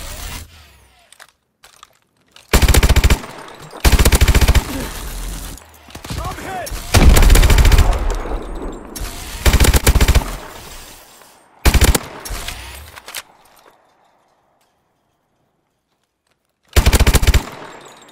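Bursts of machine gun fire ring out in the video game Call of Duty: Advanced Warfare, loud and close, in several separate volleys spread across the clip with short quiet gaps between them.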